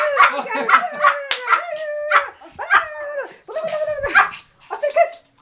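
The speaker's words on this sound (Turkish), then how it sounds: "Hayır, her başladığımızda havlıyor." A pet dog barks and howls in a rapid run of yelps and drawn-out, wavering howls, close and loud, with brief gaps between bursts.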